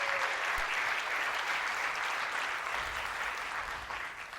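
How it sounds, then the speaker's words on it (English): An audience at a chamber of commerce community breakfast gives steady applause from many hands at once, fairly soft and distant, fading slightly toward the end. "Give Jeff a big round of applause."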